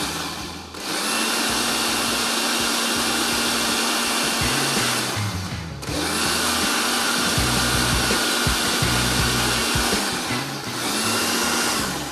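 A kitchen grinder whirs steadily while grinding ingredients for a quick mix pickle, a loud continuous motor roar with a brief dip near the one-second mark and another around six seconds before it resumes.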